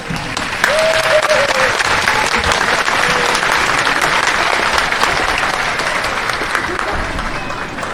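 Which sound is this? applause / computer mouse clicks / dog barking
applause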